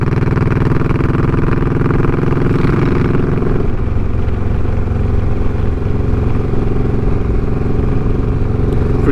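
Suzuki M109R cruiser motorcycle under way, a continuous loud, rumbling engine note with road and wind noise, the pitch shifting partway through as the rider changes speed.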